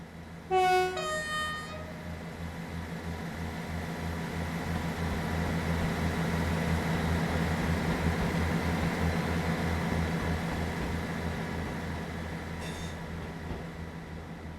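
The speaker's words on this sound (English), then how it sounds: "You can hear some point noise there." Railway points and a steady diesel engine rumble in a Midland Main Line train simulator, with a short horn-like tone near the start and a low, continuous mechanical drone throughout.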